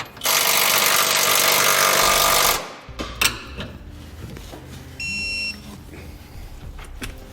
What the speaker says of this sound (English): Now you'll want to use a 15/16 wrench and socket. We'll tighten and torque our 5/8 bolts.